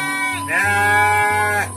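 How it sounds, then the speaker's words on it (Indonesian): A sheep in a rural Indonesian village gives one loud, close, wavering bleat that stretches across nearly two seconds, with a brief dip in the middle. "Tuh domba dan sapi juga ada ya."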